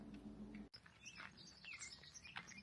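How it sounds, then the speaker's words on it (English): Outdoor springtime birdsong with faint, scattered chirps and tweets in the distance, following a brief click at the start, against quiet background ambience. "It's so nice to hear birds again."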